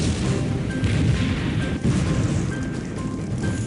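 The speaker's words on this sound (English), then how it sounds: "Smaller explosions repeat throughout the night." A burning crude oil tanker at night, a dense continuous roar of fire broken by deep booming blasts, loud and rumbling throughout, with no voices.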